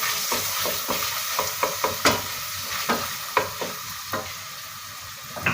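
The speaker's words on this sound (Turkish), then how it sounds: "Şöyle iki büyük kaşık salça koydum. Domates salçası." Tomato paste sizzling in a pot for a noodle soup, a steady frying hiss punctuated by about a dozen sharp spoon scrapes and taps at an uneven rhythm, close and fairly loud with no talking.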